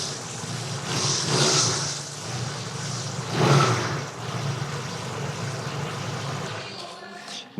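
SRC 250 motorcycle with a 250cc inline-twin engine, running and revving nearby, a steady engine drone that swells twice into short throttle blips.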